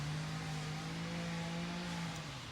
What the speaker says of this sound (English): Sorry about the noise, my neighbor's using the weed whacker over there